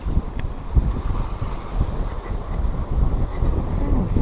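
A sailboat on the open ocean runs downwind at about 6 knots in light wind, with low rumbling wind buffeting the microphone and water washing and sloshing steadily against the hull.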